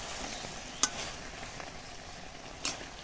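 Sugar caramelizing in a pan gives a steady, close sizzle and crackle, with two brief sharp clicks, likely a spoon scraping or stirring.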